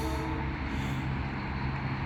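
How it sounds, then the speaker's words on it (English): A train rumbles past close by with a sustained horn blast, a steady loud roar throughout with no talking. "as the trains they honk their horns"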